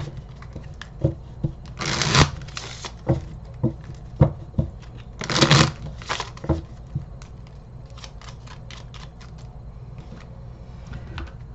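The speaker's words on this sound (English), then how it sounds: "Let me just give these a quick shuffle." Tarot cards are shuffled in a quiet room, giving a series of soft riffling and slapping bursts with a couple of longer shuffles, then fading to light handling.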